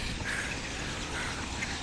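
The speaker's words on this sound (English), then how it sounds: "Oh, these fucking birds." A large flock of birds quacks in a dense, continuous wash of calls, loud and close, with no talk over it.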